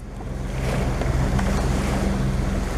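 Steady low motorboat engine drone with wash of sea waves and wind buffeting the microphone as the boat runs slowly toward a harbour, continuous and close throughout.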